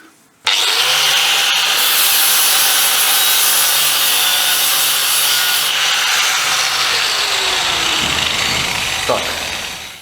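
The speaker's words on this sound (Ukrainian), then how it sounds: "зачищати шви болгаркою" An angle grinder screams continuously against metal, cleaning weld seams on an armored tracked ambulance, for about ten seconds, loud and close, its pitch dipping briefly as the disc bites and then winding down.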